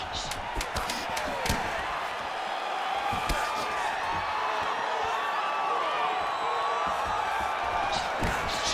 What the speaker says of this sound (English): Oh, you heard the crowd pop after that grueling ground battle.